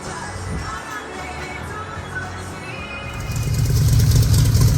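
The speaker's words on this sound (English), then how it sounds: "Idling on its own. The engine is purring." A Shelby Cobra replica fitted with an HEI distributor idles steadily on its own, a low continuous engine rumble that grows louder and fuller toward the end, with no one talking.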